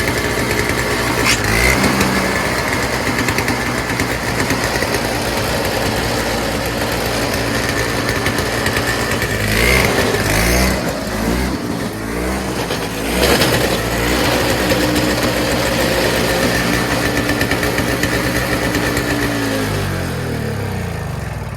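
A Toro 7HP R-Tek two-stroke single-stage 24-inch Snow Commander snowblower engine runs continuously at close range, its loud drone rising and falling slightly as it surges, with no one speaking.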